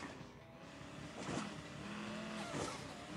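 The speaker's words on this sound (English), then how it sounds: "What is that sound when I come off the throttle?" Off-throttle engine whine from a car in the mobile racing game Hill Climb Racing 2, a steady synthetic drone with pitch sweeps and a couple of brief swells, no voices over it.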